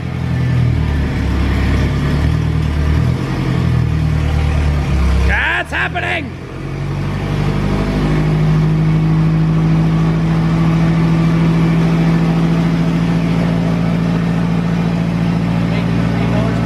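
A car engine drones loudly on a chassis dyno for a drift project car with a lean-running tune, holding a steady mid-pitched roar with one brief dip, while people talk over it.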